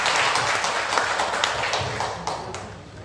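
Applause from attendees at an organization's anniversary monthly meeting, thanking a member for a special lecture; dense, even clapping that fades slightly toward the end.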